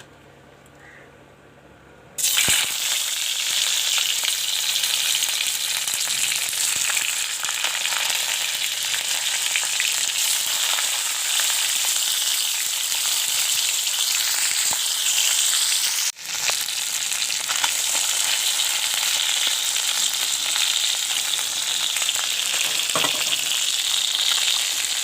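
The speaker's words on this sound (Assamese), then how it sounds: "এতিয়া মাছখিনি মই ফ্ৰাই কৰিব লাগিব।" Fish frying in a small amount of oil, a loud steady sizzle that starts abruptly after a quiet moment and runs continuously, with a brief dip midway before resuming.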